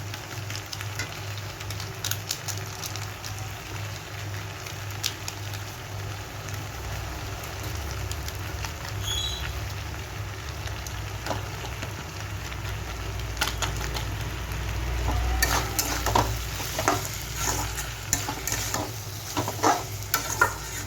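Veg chowmein fries in a pan while being stirred. There is a continuous soft sizzle with scraping and clattering strokes of the utensil, busier and louder toward the end.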